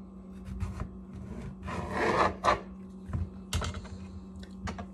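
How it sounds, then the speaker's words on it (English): A chef's knife slices a cucumber in half on a cutting board: close scraping and rasping cuts, then several sharp taps of the blade against the board. "you're going to want to cut the cucumber in half"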